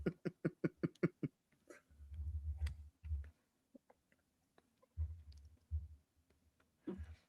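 Keyboard typing, with a rapid, even run of clicks at first, then sparser keystrokes among dull low thumps, all fairly quiet.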